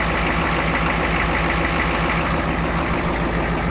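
Ford F-250 diesel pickup engine idling nearby, a loud, steady, rough clatter with a regular throbbing beat, running alone with no talking.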